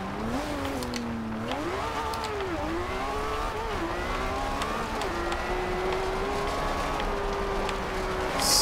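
A 2012 Lamborghini Aventador LP700-4 drives on gravel in Forza Horizon 2. Its engine drones loudly and continuously, with the pitch sweeping up and down through gear changes and throttle shifts, and no one speaks.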